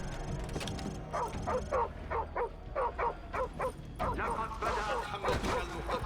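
A dog in Call of Duty 4: Modern Warfare Remastered barks in a rapid, loud series of yips and woofs, closely repeated, mixed with game sounds and a voice speaking over it.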